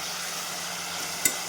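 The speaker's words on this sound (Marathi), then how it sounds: "हिरवी मिरची आणि लसणाचा पेस्ट घालून घ्यायचा. ते पण छान परतून घेऊ" Green chili and garlic paste is sautéed in a hot pan for a steady, close sizzle with a broad hissing texture, and a single sharp tap of a spoon near the end.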